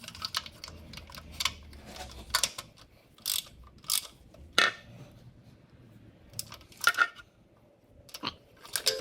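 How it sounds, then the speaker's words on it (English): Ratchet clicking in short irregular bursts while tightening engine valve cover bolts, with a few sharper metallic clacks between quieter pauses. "I'm really just barely using the ratchet to give myself any mechanical advantage as I tighten it down."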